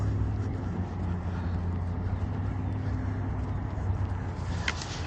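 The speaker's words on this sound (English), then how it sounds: "Revving his engine right now." A tan car with a loud engine and a dim tail light idles and revs nearby, a steady low rumble filling the whole stretch under broad traffic noise, with no clear separate rev peaks.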